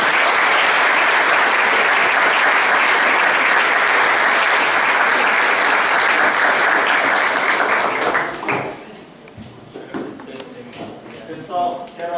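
An audience at a talk on positive psychology and flow claps in sustained, dense applause for about eight seconds, then it fades out and a voice speaks over a few scattered handclaps.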